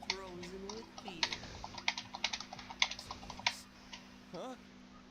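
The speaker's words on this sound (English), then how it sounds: "It's like I'm hearing typing." Keyboard typing in the video game Catherine, a run of light, irregular clicks and taps at moderate distance over a low steady hum, with brief tonal game sounds mixed in.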